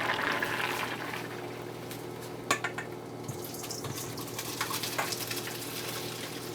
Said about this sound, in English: Now we're going to strain it, remove the water, keep the pasta in a strainer